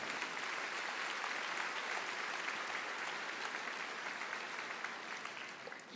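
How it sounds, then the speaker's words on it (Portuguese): A church congregation gives a dense, steady round of applause, many hands clapping together in a loud, even wash that holds for several seconds and eases slightly toward the end. "Dá uma salva de palmas aí"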